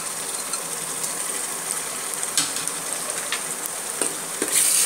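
Green chillies and ginger-garlic paste sauté in a pan with a steady, close sizzle, broken by occasional scraping clicks from stirring; no one speaks.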